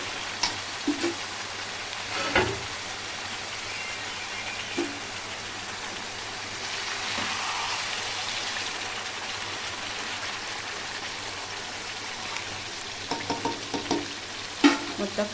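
Chicken curry fries in oil with coriander powder while being stirred, a low steady sizzle with occasional spoon clacks and scrapes against the pot, close and without talk.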